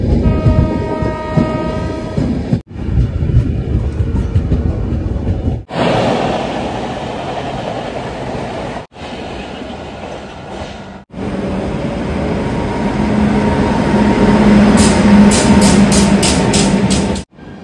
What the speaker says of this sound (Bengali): শিয়ালদা নিউ দিল্লি রাজধানী এক্সপ্রেস, এই যেটা, এই রাজধানীর জন্য আমাদেরটা দাঁড় করে রেখেছে।